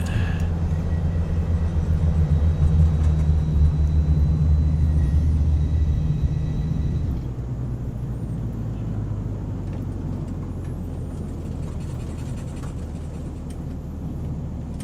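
A Cessna C182T idling before takeoff in Microsoft Flight Simulator, a steady low propeller-engine drone that drops to a quieter rumble partway through, with no voices.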